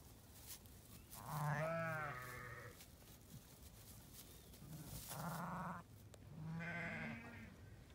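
Several sheep bleats on a farm where ewes are lambing, in three separate calls of about a second each, wavering and fairly close, with quiet pauses between them and no talking.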